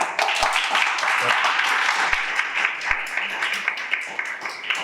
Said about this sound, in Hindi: मेरे लिए तालियां बजाएं